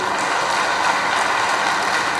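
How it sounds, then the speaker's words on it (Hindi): A crowd at a public Balidan Diwas event in Jabalpur applauds the minister, a dense, loud and continuous wash of clapping that holds steady throughout without pause. "हम चाहेंगे प्रदेश की जनता की ओर से एक बार जोरदार तालियां"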